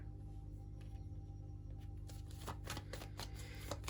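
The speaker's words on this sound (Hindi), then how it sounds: "एक टाइम पे हम एक कार्ड लेंगे." Tarot cards riffle and slap as they are shuffled and drawn, a quick run of crisp, close papery flicks in the second half over a quiet background.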